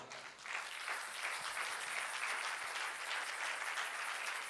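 A church congregation applauding to acclaim the Lord during a sermon on marriage, a steady wash of many hands clapping that stays fairly even and moderately loud for several seconds, with no one speaking.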